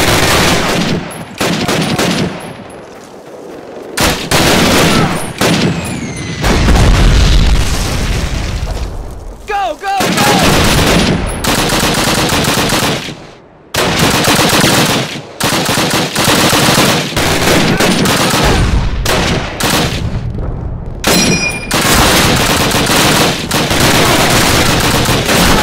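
Call of Duty 4 battle at Brecourt on PC: loud, dense bursts of machine-gun fire and booming explosions that keep going throughout, with shouted voices mixed in among the shooting.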